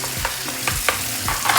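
Grated tomato hitting a pan of frying green chilies for Turkish menemen, brief close sizzling bursts with soft scraping stirs and a few sharp crackles, no voices.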